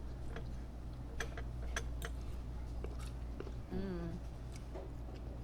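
Crunchy vegan mock chicken in a Chinese dish gets chewed close to the mic, with several soft crisp bites and chews spread across the moment, plus a brief hum or murmured voice.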